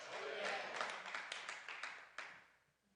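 Congregation clapping at a Thursday night church ministry service, a brisk run of hand claps and taps that fades quieter toward the end, faint and slightly distant.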